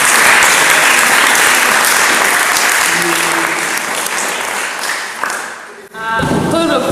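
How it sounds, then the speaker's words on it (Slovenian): Applause from a gathered crowd at a youth camp event, dense steady clapping that fills most of the stretch, thinning out briefly near the end before picking up again. "En aplavz za vse skupaj."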